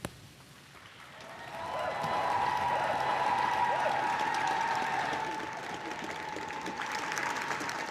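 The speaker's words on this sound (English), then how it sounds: "he's still soaking up the applause on the step of number 10 there" Outdoor applause and cheering from a crowd outside Number 10 Downing Street for the Prime Minister after his Christmas election address, swelling into steady clapping that holds for several seconds with some background voices.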